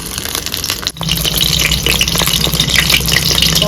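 Eggs sizzle and spit in hot oil in a kadai for a tomato egg dish, a steady close frying hiss with a brief dip as each egg is dropped in.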